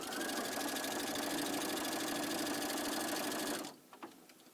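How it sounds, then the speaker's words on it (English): A sewing machine stitching binding onto a quilt, a fast, steady mechanical whir running several seconds at close range, then stopping abruptly with a few small clicks after. "as you're trying to sew this binding"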